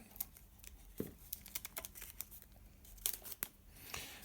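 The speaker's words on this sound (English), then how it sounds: "the other thing I have to do is put some tape around the threads" Tape being wrapped around threads while making a mirror support, a quiet close-up series of irregular sticky tearing and crinkling snaps with small pauses between them, no voices.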